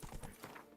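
Horse hooves clip-clop in a quick, close burst of a few beats while riding in The Witcher 3: Blood and Wine. The hoofbeats are clear and fairly loud over a soft game background.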